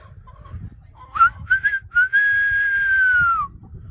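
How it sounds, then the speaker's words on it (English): A person whistles alone: a few short rising chirps, then one long steady high note that falls off at the end, clear and close. "If I whistle at him"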